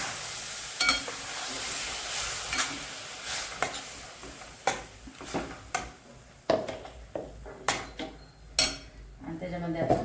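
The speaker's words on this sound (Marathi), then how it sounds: "तो आता जरासा तुपामध्ये भाजून घेते." Semolina roasts in ghee in a pan while a spoon stirs and scrapes, giving repeated sharp clinks and scrapes over a soft, continuous sizzle.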